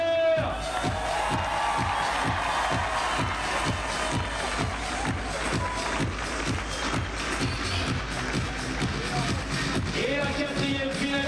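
A crowd at the Chamonix climbing World Cup speed finals claps in a steady rhythmic beat, dense and sustained, with an announcer's voice over the stadium.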